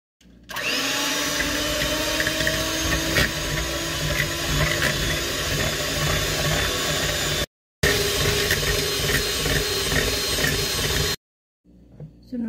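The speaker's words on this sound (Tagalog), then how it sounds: "So i-blender lang natin guys." An electric blender mixes eggs for besbusa batter, running loud and close with a steady whirring grind. It plays for about seven seconds, stops briefly, then runs again for several more seconds.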